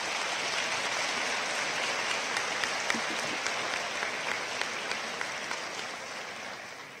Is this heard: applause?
yes